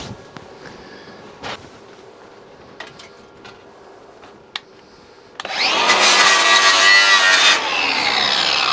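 Stick welding with 6013 rods of 1.6 mm on a SIP welder: quiet scuffs and taps, then a loud, steady, crackling arc buzz that runs for about three seconds with no talking.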